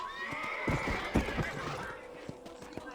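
A horse in the video game Red Dead Redemption gives a loud, quavering whinny up close, mixed with clip-clopping hooves and faint background tones.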